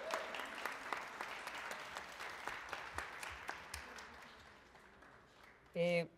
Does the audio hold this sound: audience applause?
yes